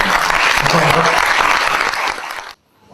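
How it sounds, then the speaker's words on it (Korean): Audience applause welcoming two teachers to the stage at a human rights group's tenth anniversary ceremony, a dense crowd clapping loudly that stops abruptly after about two and a half seconds. "무대에 나오실 때 큰 박수로 환영해 주시기 바랍니다"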